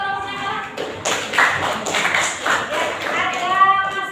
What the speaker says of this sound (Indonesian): Beri tepuk tangan untuk kelompoknya kalah.